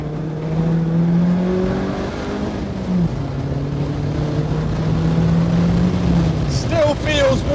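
A Vauxhall VX220 Turbo's engine revving as the car is driven, a loud, steady drone with pitch swinging up and down through gear changes, and a brief voice near the end.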